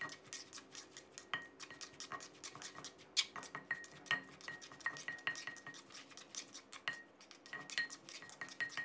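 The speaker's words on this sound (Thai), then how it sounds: "แล้วก็ให้เราตำคลุกเคล้าให้เข้ากันนะครับ" Green mango salad is pounded and tossed in a mortar, giving quiet, irregular knocks and scraping clatter close by with no talking.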